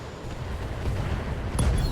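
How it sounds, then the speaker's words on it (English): An ammunition explosion on a battle mech in the BattleTech video game: a dense, rumbling blast texture with a sharper burst near the end, loud and continuous with no talk. "And there's the ammo explosion."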